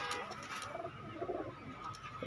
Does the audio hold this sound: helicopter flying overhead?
no